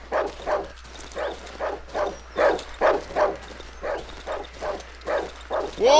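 A wolf in the horror game Darkwood barks again and again in a steady, rhythmic string of about a dozen gruff yelps. The barks come at close range with no other sounds over them.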